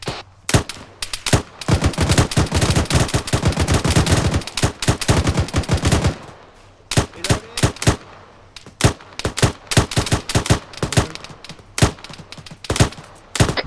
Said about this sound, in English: Get suppressive fire right, please.